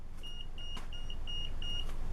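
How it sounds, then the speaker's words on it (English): Short electronic beeps repeat at a steady pace, about five in two seconds, high and thin over a low background rumble. "That's my meter. It's just beeping at me."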